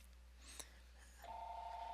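A telephone rings from an incoming call placed through Google Voice, a steady electronic ring tone starting partway through and continuing to the end, heard faintly in the background over a quiet room hum.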